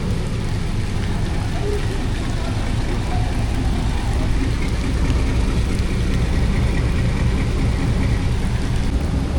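Heavy rain pours at a railway station during a rainy day, a constant loud wash of downpour with low rumbling underneath, unbroken throughout.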